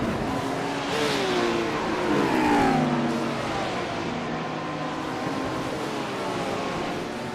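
Lamborghini and BMW GT3 race cars in a racing video game, engines revving and rising in pitch as they run close together, a loud continuous engine drone with gear-shift sweeps.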